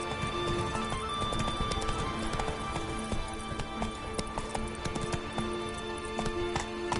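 Roach, a horse in The Witcher 3 video game, gallops with steady rapid clip-clop hoofbeats throughout, a whinny now and then, and a close, continuous rhythm.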